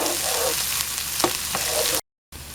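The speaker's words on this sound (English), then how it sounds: "We're really just warming the corn up since it's been cooked in the pressure canner, and putting a little browning on it." Canned corn, already cooked in a pressure canner, sizzles and browns in a pan with a steady crackling fry, a couple of brief stirring scrapes, and a short silent break near the end.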